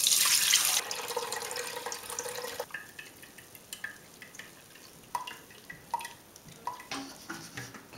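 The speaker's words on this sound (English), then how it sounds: "Let's pour the rest of it." Home-brewed beer wort for an Old Speckled Hen clone pours into a pot, a brief rush of liquid followed by scattered drips and light splashes against the pot.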